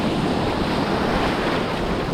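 Ocean breakers rolling onto a beach during surf fishing, a steady, loud wash of surf with wind noise roaring across the microphone and no voices.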